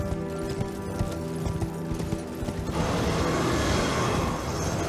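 Horse hooves clip-clopping in a steady galloping rhythm while riding in Elden Ring, loud and close, with game ambience and music building under the hoofbeats.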